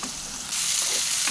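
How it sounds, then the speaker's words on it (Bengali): Green chillies and tomato sizzle steadily in hot oil while cooking a Bengali chicken kosha, a dense, continuous hiss that swells louder midway and carries on without pause. "কাঁচা লঙ্কাগুলো দিয়ে দিলাম আর টমেটোটাও দিয়ে দিলাম। ভালো করে ভাজা হোক"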